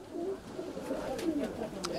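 Pigeons coo in soft, repeated calls while a flock flies in, with a few brief wing flutters over a steady outdoor background.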